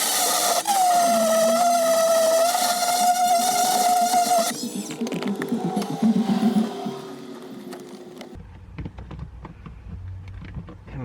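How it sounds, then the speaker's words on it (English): A handheld power grinder works a remote switch mount for a 1200W inverter install in a Toyota RAV4 Prime, a loud steady whine that shifts pitch partway through and then drops to a lower, rougher grind. "What I'm gonna do is grind down here, and that should make it rotate a little bit that way"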